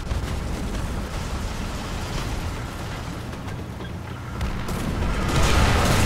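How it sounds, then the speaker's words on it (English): Artillery shells hitting around a French AMR 35 ZT3 tank destroyer in War Thunder, a continuous loud roar of blasts and rumble that swells toward the end. "Artillery!"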